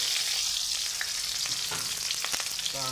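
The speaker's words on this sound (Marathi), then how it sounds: "आता याच्यामध्ये मी थोडा स्लाइस केलेला कांदा घालतो।" Sliced onion dropped into hot oil for cashew pulao, frying with a loud, dense sizzle and crackle, punctuated by a few clinks and scrapes of a utensil, close and without speech.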